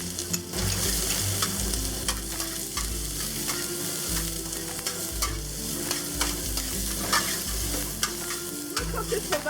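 Shallots hit hot oil in a pan over medium-high heat for a garlic-scape stir fry, giving a steady, dense sizzle with bursts of crackle and the scrape of stirring throughout, close and continuous.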